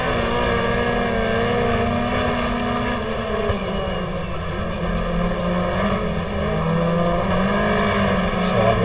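The engine of a race car in the 1994 GTR2 Australian Manufacturers Championship at Lakeside, heard from on board as a loud, steady, sustained drone with dense harmonics.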